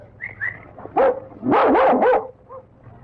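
A dog barks in a quick burst of several yips and barks, close and fairly loud, after a couple of short whimpers, with quiet room tone between.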